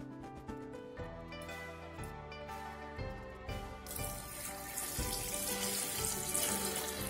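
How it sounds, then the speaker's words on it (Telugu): Water pours from a container into a bottle for a homemade bio enzyme cleaner, a continuous splashing and gurgling stream that grows louder and brighter as the bottle fills, with no talking. "నెక్స్ట్ దీంట్లో 10 parts వాటర్, అంటే 1 liter వాటర్."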